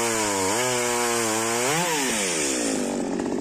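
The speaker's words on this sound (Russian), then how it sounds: "Две пилы, бензиновая и аккумуляторная." A gasoline Stihl MS 192T chainsaw roars loudly and continuously, its engine pitch rising and dipping as the chain bites through wood.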